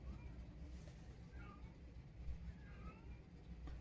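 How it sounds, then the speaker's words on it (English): Cat meowing faintly indoors, two drawn-out cries over a low background hum. "Oh, cat's crying again."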